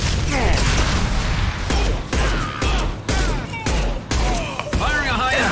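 A volley of loud, sharp gunshots from a Mass Effect 2 firefight around a burning refinery, high-impact pistol shots cracking in rapid bursts with short gaps between them.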